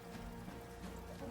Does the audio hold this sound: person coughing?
no